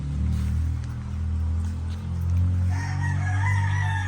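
A gamefowl rooster crows loudly and close, a drawn-out call in the latter half of the clip over a low steady rumble, with clucking from other fowl nearby.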